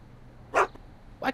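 Einstein, the dog in the Back to the Future video game, gives two short, sharp barks about two-thirds of a second apart, close by over a quiet background.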